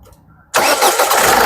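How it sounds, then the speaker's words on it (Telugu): A 2017 Ford EcoSport Titanium diesel engine fires up on a single crank: a brief quiet lead-in, then a sudden loud catch that settles straight into a steady, close diesel idle. "సింగిల్ సెల్ఫ్లో బండి స్టార్ట్ అవుతుంది సార్."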